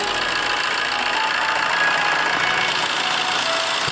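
A Swift Dzire car engine idles steadily after a water pump replacement, a close, continuous mid-pitched hum with even mechanical ticking and no breaks throughout.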